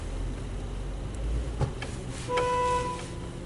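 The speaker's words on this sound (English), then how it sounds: "Sounds like a car horn." A car horn sounds briefly at a Mark VII AquaJet GTO-700 automatic car wash at a Phillips 66 station, a steady tonal honk rising above the constant hum and spray noise of the wash bay.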